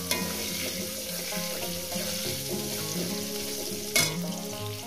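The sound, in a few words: potatoes frying in oil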